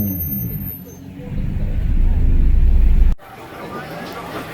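Lifted trucks roll into a JDM car meet in Okinawa, Japan: a loud close engine rumble swells and passes, then cuts off abruptly and leaves quieter traffic, with someone talking over it.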